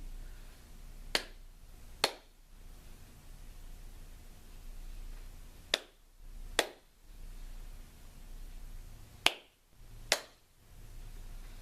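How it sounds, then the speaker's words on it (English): Paired sharp hand claps come in three evenly spaced sets of two, crisp and close against a quiet hiss, as a group claps along during a beginning recorder lesson. "Only clapping or making the gesture."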